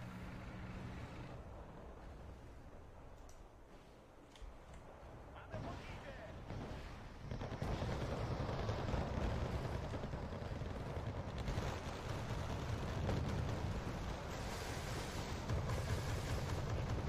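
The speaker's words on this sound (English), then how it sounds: "Just a massive, massive firefight." A massive firefight in the strategy game Wargame: Red Dragon, with dense rumbling artillery and gunfire that swells into a loud, continuous roar of overlapping blasts.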